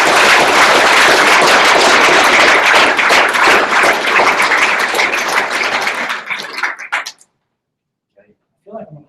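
Audience applause fills a summit hall, a dense, loud wash of clapping for about six seconds that thins into scattered claps and fades out, followed by a brief faint sound near the end.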